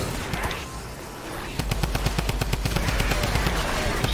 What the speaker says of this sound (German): Der schießt auf mich.